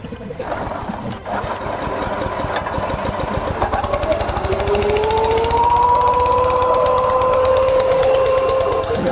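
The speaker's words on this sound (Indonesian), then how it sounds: "mesin giling yang berbahan bakar bensin ini" A gasoline-powered grinding machine for rice husks runs continuously up close, a loud rattling engine drone with a rising whine as it speeds up and settles into a steady high hum.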